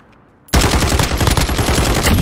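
Rapid automatic gunfire in a Modern Warfare Gun Game match, a loud, dense burst of shots bursting in after a brief quiet start and continuing without letup.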